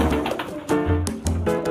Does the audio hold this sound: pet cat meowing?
no